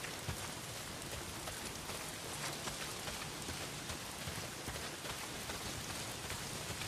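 Steady rain pours down in the open world of the video game Days Gone, a dense, even hiss filling the whole stretch without breaks, with no voices over it.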